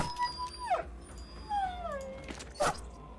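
A dog howls in the Battle Brothers video game with the Legends mod, a rising and falling wail over a soft game backdrop, followed by a sharper yelp near the end; no one speaks.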